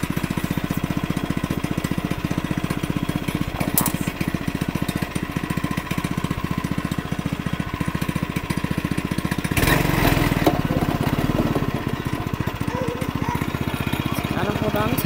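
A go-kart engine runs loudly nearby with a rapid, steady pulsing chug that swells briefly partway through, and a voice speaks over it.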